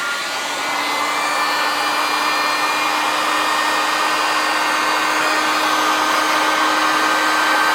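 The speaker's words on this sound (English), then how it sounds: "I'm going to use the high speed on the heat gun." A heat gun on its high speed setting blows a steady, loud whooshing roar with a thin whine running through it, held without a break while softening adhesive behind glued-on wall tile.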